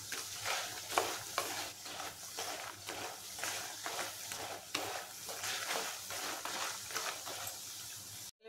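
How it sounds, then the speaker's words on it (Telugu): Sun-dried vadiyalu frying in hot oil, a continuous close crackling sizzle with rhythmic stirring scrapes throughout, no voices. "ఆయిల్ వేడైంది, వడియాలు వేపుకుందాం."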